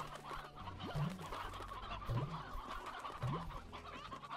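Chickens and roosters in the Slime Rancher video game cluck in three short, evenly spaced bursts, about one each second, over a steady game background with no talk.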